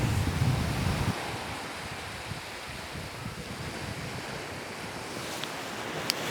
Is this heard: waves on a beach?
yes